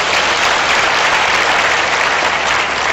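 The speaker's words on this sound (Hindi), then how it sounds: "ताली बजाए फिर तो जोर से" An audience at a motivational talk claps loudly, a thick, continuous roar of many hands that stays even and full from start to finish.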